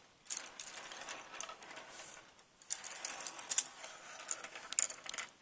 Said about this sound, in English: I love the sound of brushes.